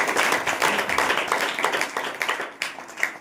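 Congregation clapping hands together during a Saturday church power meeting, a dense, lively burst of many hands applauding continuously before thinning out at the end.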